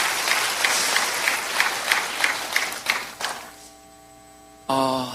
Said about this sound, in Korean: 우리 귀한 찬양팀에게 영광의 박수, 감사의 박수 올려드리겠습니다